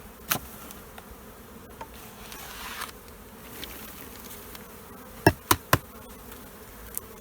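Honey bees hum around an open hive during a spring inspection, a steady low buzz close by, broken by a few sharp knocks and taps from hive tools.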